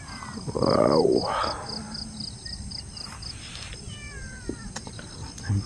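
A cat meows at a hilltop view deck, one drawn-out rising and falling meow up close, followed by quieter chirps and faint background noise.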